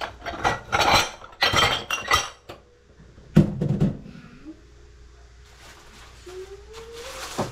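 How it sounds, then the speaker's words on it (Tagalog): Dishes and utensils being washed, with bursts of metal cutlery clinking and clattering against pots and pans, loud and close, then fading to quiet rubbing and water-like rustle. "Hugasan lang yung mga yan, mga nik-anik."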